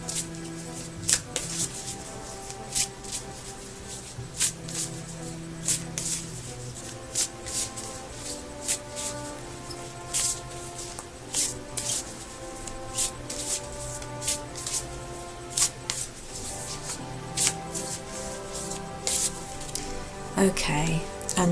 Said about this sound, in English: I'm going to shuffle the cards now and see what comes up.